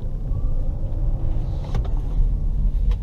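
A Mitsubishi Outlander PHEV plug-in hybrid accelerating hard, heard from inside as a steady loud low rumble of road and drivetrain noise with a faint rising whine and a few brief clicks near the end.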